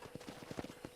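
Horse hooves gallop in Red Dead Redemption, a steady run of rhythmic, close clip-clop beats at a brisk pace, fairly loud and alone with no voices.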